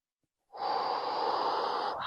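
Deep inhalation during an abdominal workout routine, one long, steady, close breath that starts abruptly after a moment of silence and holds for over a second.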